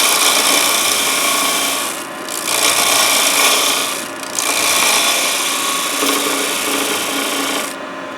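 Ends of a fresh-cut wood blank rubbed down on a lathe with a woodturning tool: loud, continuous close-up rasping and scraping, with a couple of brief dips where the tool lifts off, no talking.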